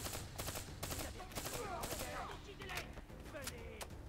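Gunfire in the video game Call of Duty Black Ops 3 during virtual training, with rapid bursts of automatic shots and a dense, continuous layer of game battle noise throughout.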